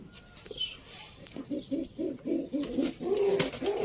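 Homing pigeons cooing in a loft, a series of soft rhythmic low coos repeating close by, with faint background voices and occasional rustling and clatter.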